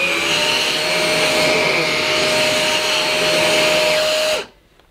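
Numatic Hetty Quick cordless vacuum running on carpet in its default mode, brush roll on and normal suction, a steady loud whine and airflow roar that holds for over four seconds before cutting off abruptly into near silence.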